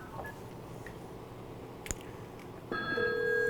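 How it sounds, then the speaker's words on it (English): An incoming 911 emergency call at a communications center, a faint click followed by a sudden steady electronic tone and digital line noise that stays on to the end. "as I initiate the call, you'll hear some digital noise in the background when the call comes in"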